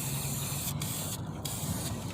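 Spray can blasting a steady, loud hiss onto a rusted car part, continuous across the whole span with brief dips, no talking.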